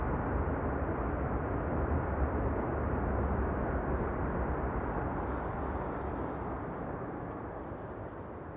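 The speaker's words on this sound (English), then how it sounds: "Delta Airlines flight 162. Using the reversers." A Delta Airlines jet rolls out on landing at Amsterdam Schiphol with thrust reversers engaged, a loud, dense, broadband roar holding steady and then slowly fading toward the end, with no voices over it.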